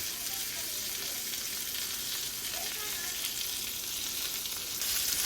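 Chicken browning in a hot pan gives a constant dense sizzle of frying and splattering fat, close and unbroken for the whole stretch, with no talking.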